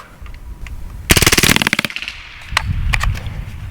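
A Hatsan Blitz .30 caliber air rifle fires on full auto at a 100-yard range. A loud, fast burst of evenly spaced sharp cracks lasts under a second, followed by a couple of isolated shots against a rumbling outdoor background.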